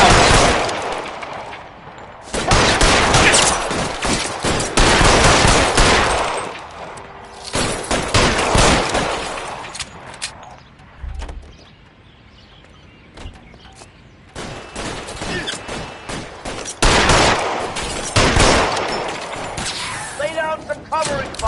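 Sustained bursts of loud automatic gunfire from a PS4 shooter come in several long volleys separated by quieter lulls, with faint voices in between.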